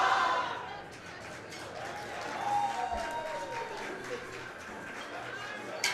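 A crowd at a high school powerlifting nationals meet cheers and claps for a lifter, with sustained applause and shouts swelling and easing over several seconds and an announcer's voice underneath.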